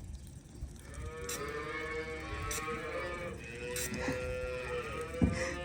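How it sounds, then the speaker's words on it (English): Hungry cattle mooing on a livestock farm in winter, several drawn-out moos overlapping steadily and fairly close, with a few sharper calls standing out near the end. "the cows are so hungry"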